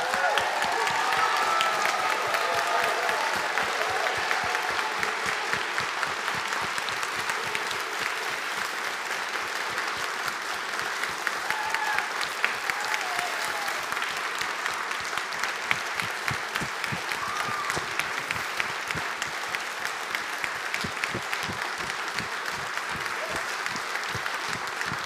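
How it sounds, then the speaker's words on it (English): A church congregation at a Methodist ordination service at St Andrew's Church, Shifnal, gives a long round of applause, dense and even at first, then settling into a steady, rhythmic clapping that carries on for about twenty-five seconds. "Huge round of applause."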